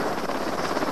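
A helicopter arrives at a snowy mountain rescue in Scotland, its rotor drone loud, steady and close, with no voices over it.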